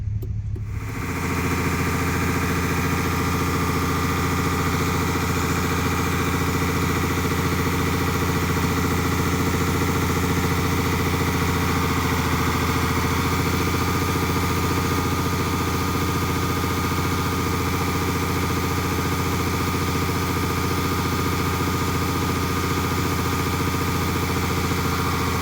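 A Peterbilt 379 truck engine idles steadily and loudly nearby during a corn harvest. The low, even rumble continues unbroken throughout with no talk.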